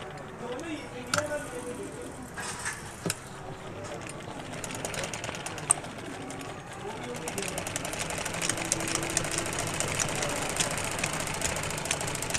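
A sewing machine stitching a round collar on buckram, a soft rapid mechanical whirr that starts and stops, then runs steadily in the second half with a voice talking over it.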